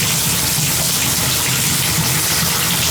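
Hot water from an old boiler runs steadily out of a tap, a constant close rushing splash with no pauses or voices.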